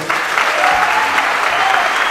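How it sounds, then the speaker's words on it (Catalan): Audience applause in a theatre during a concert, steady dense clapping from a full crowd held for about two seconds, loud and even. "Un aplaudiment per ella."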